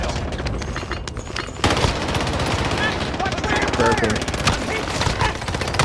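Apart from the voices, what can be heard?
minigun fire in a video game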